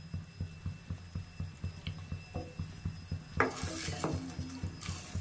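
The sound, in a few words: tamarind chutney boiling and thickening in a pan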